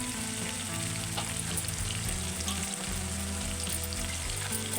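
Soaked chana dal sizzles and fries in hot tempering oil with green chilies for a beerakaya (ridge gourd) curry, a dense, steady crackle running unbroken throughout, close and fairly loud with no voices.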